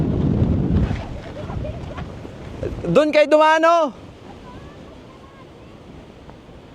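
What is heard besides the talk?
strong wind on a mountain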